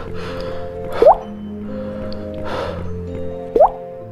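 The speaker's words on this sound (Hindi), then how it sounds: "पानी की आवाज, टप टप आवाज." Two distinct water drips plop about two and a half seconds apart over a low, steady ambient hum in a horror video game, with no talking.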